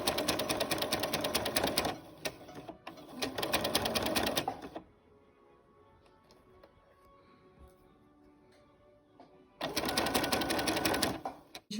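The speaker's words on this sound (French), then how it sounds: "Donc je couds mon ourlet au point noir." A sewing machine stitches the hem of a pleated fabric face mask in two close, fast-running bursts separated by a pause. After a long quiet stretch, a third burst starts near the end.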